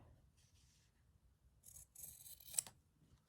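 Scissors cut fabric on a stitchery project, several quiet, close snips and rasping blade strokes against a soft hum.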